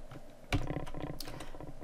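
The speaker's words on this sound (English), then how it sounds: "I'm just gonna type out the answer right here." Quiet clicking of keys on a computer keyboard as an answer is typed, a short run of light, uneven taps close by with no voice over them.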